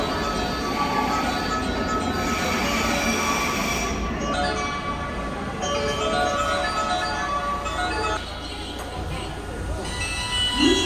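Limited express Kuroshio train pulling into a station platform, with rumbling wheels and rail squeal under a tonal platform announcement and chime, the sound shifting as the train slows.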